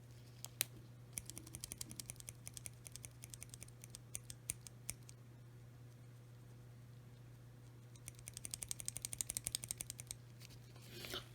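Everglide Oreo tactile switches typed on with keycaps fitted, giving quiet bursts of close keystroke clacks in two runs separated by a short pause, over a steady low hum.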